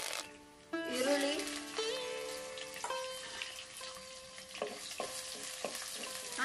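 Mustard seeds and cumin dropped into hot oil in a clay pot in a village kitchen, a sudden bright sizzle with crackling pops, then a quieter fry with occasional sharp spits and a few clinks.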